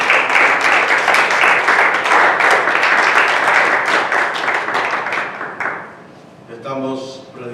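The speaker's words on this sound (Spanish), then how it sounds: "Vamos a saludarnos con un fuerte aplauso." A church congregation applauding, a dense, loud burst of many hands clapping that carries for several seconds, then fades out before a voice starts to speak.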